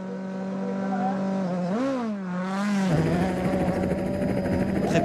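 A WRC rally car on studded tyres launches from a snowy stage start in Sweden, the engine note holding, dipping and rising sharply with gear changes, then roaring close and loud with crackling tyre and gravel noise.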